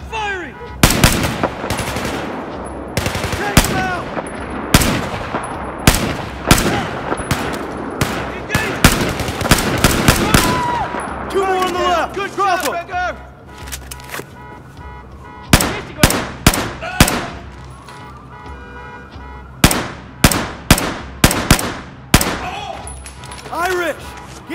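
Sharp, loud gunshots from Battlefield 4 combat, firing in clustered bursts and single cracks with pauses between, with shouted voices in the game mixed among the shots.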